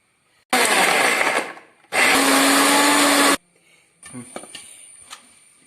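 A mixer grinder grinding a paste of chillies, shallots and salt runs in two loud whirring bursts, the second slightly longer, followed by quieter clattering and knocks as it stops.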